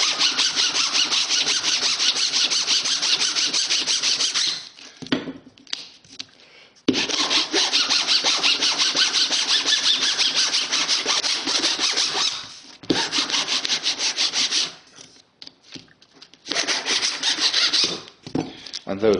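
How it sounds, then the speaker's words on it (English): Model railway track ties being cleaned of spike detail, rubbed on bench sandpaper and worked with a flat file. Loud, close, steady scraping and rasping runs in long strokes, broken by short pauses. "with a piece of sandpaper on the bench and a flat file I just clean off the spike detail"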